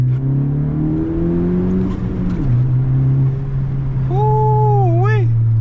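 A turbocharged Honda Civic Si pulls hard under acceleration, its engine droning loud and close with a dip at a gear change, followed by a brief rising and falling whistle near the end.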